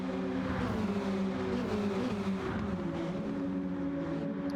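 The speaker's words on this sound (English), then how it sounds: "These cars are surprisingly loud for what they are." Race cars in Gran Turismo 7 during an online league race, with a steady, droning engine note and layered tonal whine from several cars running together at sustained speed. Loud and continuous with no talk.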